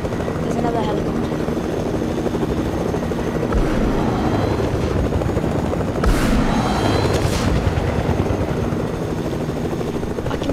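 In-game helicopter flying overhead with a dense, pulsing rotor roar throughout, close and loud, broken by a couple of sharp bursts partway through.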